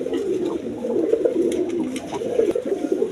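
A pair of pigeons coo in soft, continuous low murmurs, close and steady throughout.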